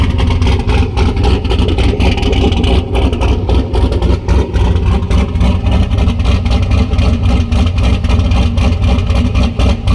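Racecar engine runs loud and close, a steady rough idle with a throbbing, lumpy pulse and slight swells in revs, no voices over it.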